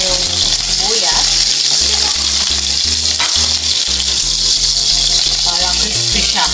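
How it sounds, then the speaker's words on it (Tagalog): Onions sauté in a hot pan after garlic, sizzling steadily and loudly while a utensil stirs and scrapes in rhythmic strokes, with cooking clatter close by. "Igisa na natin yung sibuyas"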